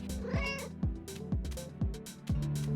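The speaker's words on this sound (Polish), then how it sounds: "chodzi oczywiście o czerwonego kota piaskowego." A red sand cat in the State of Survival game meows repeatedly, about five loud, close calls in a steady rhythm over a continuous musical background.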